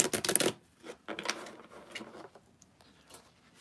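Playing cards riffled and shuffled by hand in a quiet indoor room, a dense papery burst at first, then several shorter riffling bursts and soft flicks that trail off.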